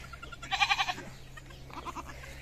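A young goat kid bleats in a short series of quavering calls, then a fainter second burst of bleats follows, with a steady low hum in the background and no one speaking.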